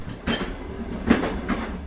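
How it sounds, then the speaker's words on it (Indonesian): A night train rolls along the rails, its wheels giving a soft, rhythmic clickety-clack with a few evenly spaced muffled thumps over a low continuous rumble. "Biarkan suara rodanya mengantar hatimu menjadi lebih ringan."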